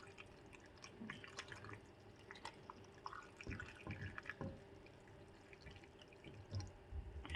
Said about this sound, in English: And then we pour in our brine that is cooled